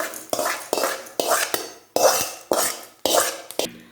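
Dry grains of horse gram and toor dal rattle and scrape against a pan as they are tossed, in seven or eight sharp rhythmic bursts, close and fairly loud, with no one speaking.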